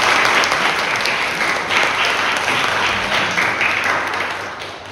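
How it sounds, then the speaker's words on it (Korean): Church congregation applauding to welcome visiting members during a Sunday service, a full, continuous round of clapping that holds steady and then gradually fades toward the end. "잠깐만 자리에 일어나 주시면 우리 박수로 환영하겠습니다."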